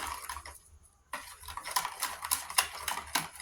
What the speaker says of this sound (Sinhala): සීනි එක මේ බිත්තර එකේ විස්ක් එකෙන් බීට් කරද්දි දිය වෙන්න ගන්නවා.